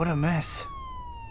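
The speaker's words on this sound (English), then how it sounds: "It sounds like an ambulance is coming." A short ambulance siren sounds in the Spider-Man 2 video game after someone speaks briefly, a faint wavering wail trailing off behind him.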